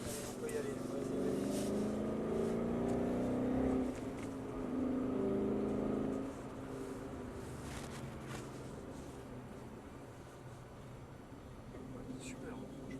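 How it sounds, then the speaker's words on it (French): A car engine drones steadily from inside the cabin, the note rising as it accelerates and then dropping back to a lower hum, with people talking over it. "on accélère"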